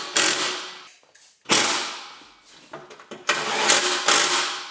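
Metal chain and bolts being tightened on the rear assembly of a John Deere 4440 pedal tractor, with several sharp clanks and ratcheting bursts separated by brief quiet gaps, close and fairly loud.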